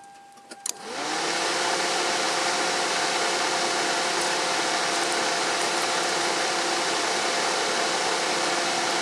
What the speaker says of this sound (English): when I turn the ignition on, the cooling fan should come on immediately.